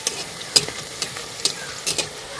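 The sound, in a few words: rice and potato kurkure frying in hot oil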